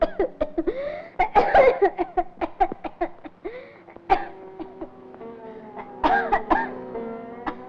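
A person coughs repeatedly in a series of short, harsh bursts, mixed with throat clearing and some laugh-like sounds, in a scene from a 1947 Hindi film.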